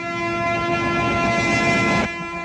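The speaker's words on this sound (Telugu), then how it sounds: "ట్రైన్ స్టార్ట్ అయింది" The Godavari train rumbles steadily as it starts to move, with loud, sustained horn-like tones over a low mechanical roar, which cut off abruptly near the end.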